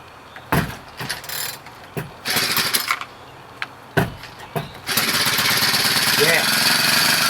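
Small engine running on a cheap replacement carburetor, sputtering in uneven bursts at first, then settling into a loud, steady run.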